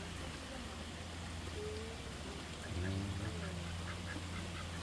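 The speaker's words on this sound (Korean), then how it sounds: "지금 소세원에서 기르고 있는 오리 딱 세 마리네요." Mallard ducks kept in a small group of three give a short run of low quacks near the middle, fairly quiet against a steady background hum and patter.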